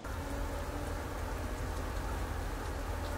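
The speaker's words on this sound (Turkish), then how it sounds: "5 dakika önce güneşten yanarken birden bir yağmur bastırdı." Steady, dense rain pouring down in a sudden summer shower in Helsinki, Finland, a continuous hiss of drops hitting the street and surfaces, loud and unbroken throughout with no talking.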